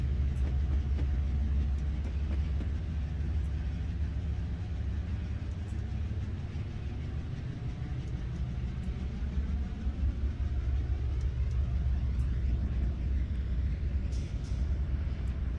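CSX freight train 7667 rolls past with a steady, heavy low rumble and a broad wash of wheel and track noise that holds throughout, shifting in tone near the end as the cars go by.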